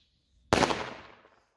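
A single sharp bang from an older Chinese firecracker set off on New Year's Eve, close and loud after a brief quiet, with a short echoing tail that fades within about a second.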